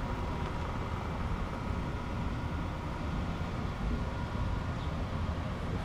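An Ecotric Fat20 electric fat-tire bike motor spins under throttle during a controller repair, giving a steady, close, continuous hum and whir with no breaks for about six seconds.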